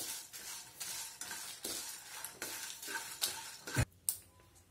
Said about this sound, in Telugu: 5 లవంగాలు, అలాగే 1-2 టేబుల్ స్పూన్ల దాకా ధనియాలు వేసుకుందాము. లో ఫ్లేమ్లోనే వీటిని వేపుకుందామండి.